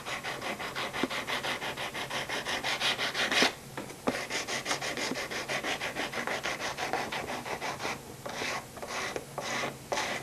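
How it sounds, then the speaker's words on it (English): A small sanding block rubs along the edge of a guitar pickguard in quick, even back-and-forth strokes, close up and continuous, with a few short pauses and no speech. "I like to come in with a small sanding block and make sure that there's no sharp edges on there."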